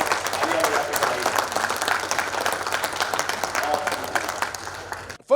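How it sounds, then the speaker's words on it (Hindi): An audience claps in birthday congratulations at a Jaipur dialogue session, a dense, continuous wash of hands that holds steady and then stops abruptly near the end. "तो हम सभी लोग इनको तालियां बजा के बधाई"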